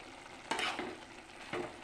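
Rice and mung dal frying in ghee are stirred in a pan, with two soft scraping strokes over a faint, steady sizzle.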